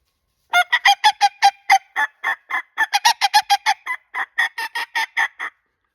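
A goose call blown by mouth gives a rapid series of about two dozen loud, close, honking goose-like notes in quick bursts, closely imitating real geese.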